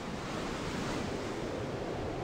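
Wind blows across the beach at Saïdia, Morocco, as a steady, even rush of broadband noise with a possible surf-like wash, moderately faint and continuous, with no voices.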